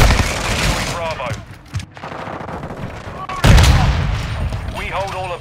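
Gunfire in a Cronen Squall video game match, dense loud bursts and rattling volleys with a heavy boom midway, chaotic battle noise with faint radio-like voices under it.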